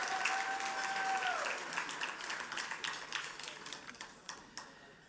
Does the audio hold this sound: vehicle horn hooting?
no